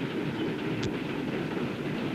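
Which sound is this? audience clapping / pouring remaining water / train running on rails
train running on rails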